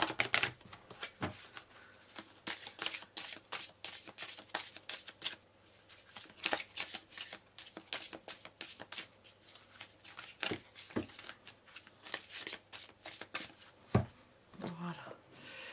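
A deck of playing cards is shuffled repeatedly, crisp riffling and flicking bursts in irregular clusters, close and fairly quiet with no talk.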